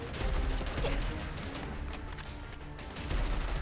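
Colt 723 (XM4) rifle shots in Fallout 4, a dense, muffled run of gunfire and crashing impacts over busy game noise, steady throughout with no clear separate shots.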